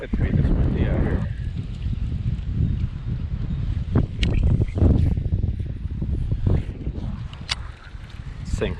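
Strong wind blowing outdoors during bass fishing, a loud continuous low rumble of wind buffeting the microphone, with a few brief knocks and handling sounds on top.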